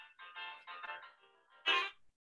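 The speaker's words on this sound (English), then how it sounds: "Nice ringtone as well." A mobile phone ringtone plays a bright melodic tune in several short bursts, close and clear, ending on a louder final note before silence.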